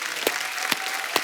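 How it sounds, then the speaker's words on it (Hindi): Studio audience at a television comedy show claps in a brief burst, with a few sharp, separated hand claps standing out over a soft crowd background. "एक बार जोरदार तालियां"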